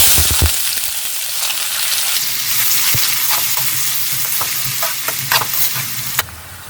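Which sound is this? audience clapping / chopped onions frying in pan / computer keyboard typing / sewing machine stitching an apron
chopped onions frying in pan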